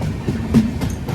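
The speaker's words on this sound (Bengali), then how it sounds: "ট্রেন যাচ্ছে একদম পাশ থেকে।" A train passes very close along the route from Kolkata toward Sikkim, its rumbling wheels and car clatter loud and near throughout the short moment.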